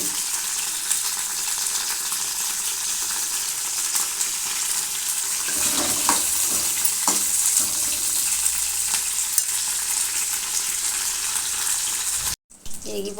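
Tomatoes and whole small green chillies frying in a pan, giving a continuous loud sizzle with scattered sharp pops and crackles from the chillies and a brief stirring scrape partway through.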